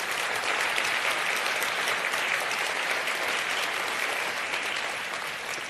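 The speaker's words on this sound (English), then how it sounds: "Please give them a warm round of applause." Conference audience applauding continuously at a professional nursing conference, a dense, steady wash of many hands clapping in a large hall, loud throughout and tapering slightly at the end, with no talk.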